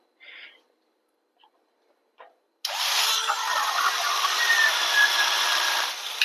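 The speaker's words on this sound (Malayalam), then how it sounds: "ഇനി ഞാനിത് ചിരട്ടയോടുള്ള ഒരു തേങ്ങ കൂടെ തിരുമ്മി കാണിച്ചു തരാം" A coconut still in its shell is grated on a coconut scraper. After a few faint taps and near-silence, a continuous, close rasping scrape starts abruptly and keeps going at an even, fairly loud level.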